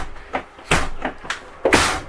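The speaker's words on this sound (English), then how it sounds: "close the door behind me" Door of a Jayco Jayfeather X213 travel trailer being handled and closed, several soft knocks and thumps with rustling between, close by with no talk.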